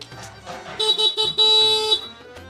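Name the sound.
motorcycle horn honking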